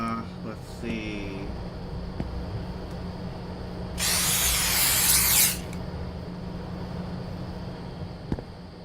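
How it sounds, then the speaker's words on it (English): Chemical spray hissing out in a video game convenience store, one steady burst of about a second and a half, loud against a quiet hum of background tones. "I'm just going up to these things and spraying them with chemicals."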